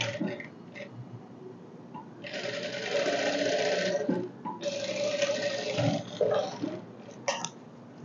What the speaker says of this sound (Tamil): ஷோல்டருக்கு அப்படியே மேலே மேலே 2 தையல் போட்டுடணும்